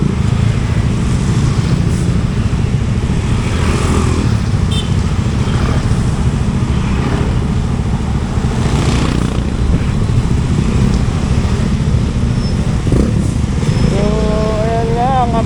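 Busy road traffic with motorcycles and cars, engines droning and passing close by in a steady, loud stream, with occasional horn-like tones and a voice speaking briefly over it.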